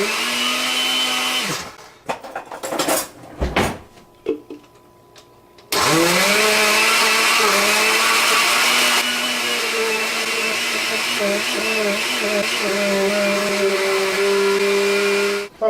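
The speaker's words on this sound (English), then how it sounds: "put the cucumber slices into the blender," A kitchen blender liquefies cucumber slices: a brief whir, then clattering pulses, then a long, loud steady motor whine that runs to the end before cutting off.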